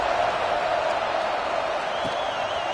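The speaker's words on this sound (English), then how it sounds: "this crowd is buzzing after that last score" A stadium crowd buzzes after a score in the College Football 26 video game, Tennessee vs Auburn, a steady, dense roar of many voices holding level throughout.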